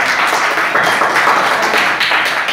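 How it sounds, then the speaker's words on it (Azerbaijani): Children applaud the winning trio of a geography word quiz, giving a dense, lively burst of clapping that pulses unevenly and holds fairly loud throughout. "Və üçlüyümüzü alqışlayaq uşaqlar."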